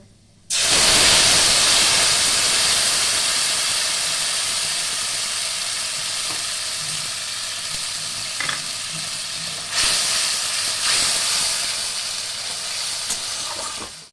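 Mustard seeds in a pan burst into a loud, dense sizzle that starts abruptly and hisses steadily throughout. Occasional scraping bumps come from stirring, heard close up with no voices.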